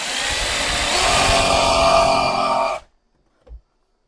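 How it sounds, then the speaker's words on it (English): A pocket hole jig drill bores screw holes into shelf wood, a loud steady whine running for nearly three seconds before cutting off abruptly, followed by a brief soft knock. "use your pocket hole puncher here"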